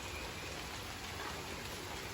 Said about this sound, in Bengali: অনেক বৃষ্টি দুই তিন দিন যাব প্রচণ্ড